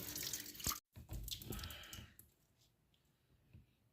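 Meat is rinsed under running tap water in a home kitchen, splashing and dripping close by with clicks, loudest early on and then fading to soft trickles.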